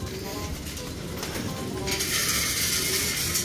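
Pigeons cooing and fluttering during feeding, with soft bird calls and rustling near the listener, brief faint voices in the background and a louder hissy wash in the last seconds.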